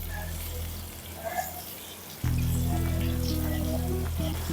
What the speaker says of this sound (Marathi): मोठ्या गॅसवरतीच आपण दोन तीन मिनटं हे बटाटे परतून घेणार आहोत